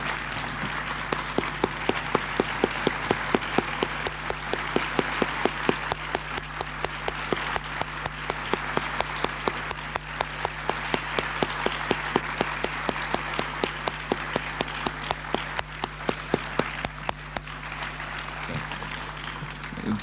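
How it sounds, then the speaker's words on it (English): Sustained audience applause follows the close of a Wu-style tai chi chuan federation program, dense overlapping clapping holding steady at moderate distance for about twenty seconds, with no talk over it. "Please, a round of applause for the Wu family."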